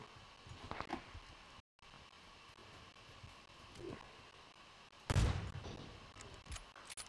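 Gunfire in the PUBG video game comes as a few scattered, fairly distant cracks, with one louder, closer shot near the end, set against a soft background rustle.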